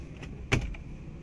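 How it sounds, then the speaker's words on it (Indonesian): A drawer in the cabin of a 2007 Daihatsu Xenia Li VVT-i is worked open or shut, giving one sharp, close click-thump with a couple of softer knocks around it. Nobody speaks. "Laci-laci"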